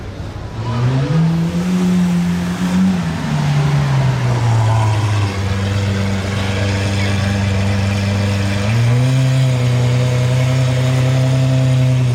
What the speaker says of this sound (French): Philippe Plein qui arrive tranquillement avec sa Ferrari SF 90